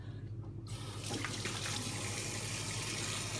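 Tap water runs steadily into a sink for rinsing the face after makeup removal, starting abruptly and continuing as a close, even splashing stream with no talk.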